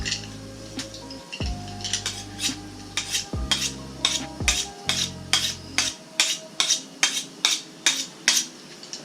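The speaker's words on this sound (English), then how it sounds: "go ahead and cut this bacon up" A knife cutting bacon lengthwise on a board, a run of regular sharp chopping taps, close and steady, over a low hum that cuts out partway through.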